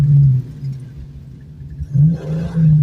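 A car engine in a manual transmission driving lesson revs in low droning surges, dipping and rising again as it accelerates, close and loud with no talk.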